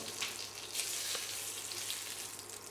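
Cinnamon sticks and cardamom pods fry in a little oil for white pulao, making a soft, even sizzle that hisses quietly and continuously throughout.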